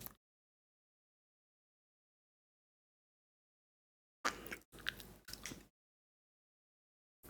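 Caramel popcorn being chewed up close: after a long silence, a short cluster of three or four crisp crunching bursts lasting about a second and a half, with no talking.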